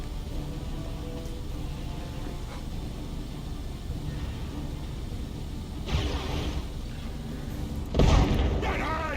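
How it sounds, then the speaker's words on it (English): Grenade explosions in the real-time strategy game Dawn of War 2 land amid ongoing battle noise, with two deep booming bursts near the end, the second louder. "Good grenade hits. They do have pretty good range with the grenades."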